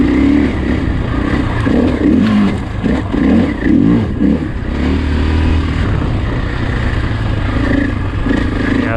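A KTM EXC-F street-legal dirt bike engine hums and revs steadily while being ridden, loud and continuous with small surges in throttle throughout, no voices over it.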